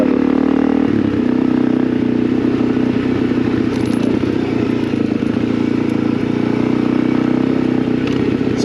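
An old Suzuki DRZ 400 motorcycle being ridden, a loud steady engine drone with constant wind rush and a brief shift in pitch early on, close and continuous.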